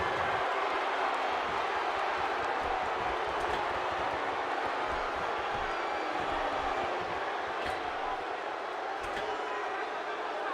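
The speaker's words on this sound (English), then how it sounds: "by the sound of this crowd, I think they're getting what they wanted." A large arena crowd in the wrestling video game WWE 2K16 roars and cheers continuously in a big echoing space, a steady wash of noise with faint thumps underneath.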